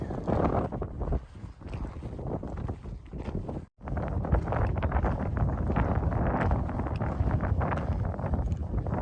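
Strong gusty wind at Rhododendron Gap in Grayson Highlands State Park roars across the microphone, buffeting steadily with a brief lull partway through before surging back.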